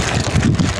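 Wind blows beside a river, buffeting the microphone in low, rumbling gusts for under a second.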